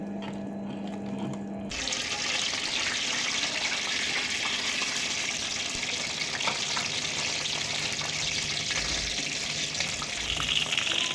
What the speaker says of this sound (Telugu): ఇది కొంచెం వేగిన తర్వాత అప్పుడు ఆవాలు వేసుకుంటే ఆవాలు మాడకుండా ఉంటాయి